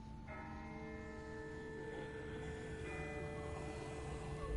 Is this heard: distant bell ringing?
yes